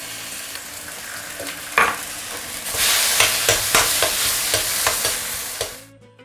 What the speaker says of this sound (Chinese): 虾头和这个虾壳下锅，给它煎一煎